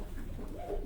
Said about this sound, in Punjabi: ਇਹ ਲਾਲ ਪਰੀ ਕਬੂਤਰ ਹੈ ਜੀ